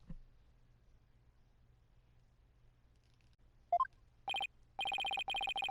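A cell phone rings in the Apollo Justice Ace Attorney video game: after near silence and a short rising blip, a repeated electronic ringtone sounds in bright clear bursts.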